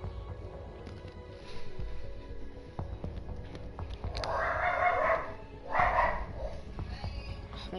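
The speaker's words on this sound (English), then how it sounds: "My dog's barking." A dog barks in short clustered bursts, with a louder volley midway and another soon after. The barking is moderately distant, over a steady background hum and faint game sounds.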